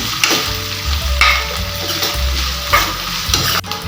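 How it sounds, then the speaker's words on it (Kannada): Onion and tomato fry in oil for a thoor dal sambar, sizzling steadily as a spoon stirs and scrapes the pan. The stirring comes in rhythmic strokes, close and fairly loud, with no voices. "ಟೊಮೊಟೊ ಮೆತ್ತಾಗಬೇಕು ಅಲ್ಲಿವರೆಗೆ ಚೆನ್ನಾಗಿ ಫ್ರೈ ಮಾಡ್ಕೊಳ್ಳಿ"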